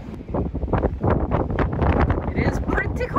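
Heavy gusty wind on a ship deck in Alaska buffets the microphone in loud, uneven rumbling bursts, with indistinct voices partly buried beneath the roar.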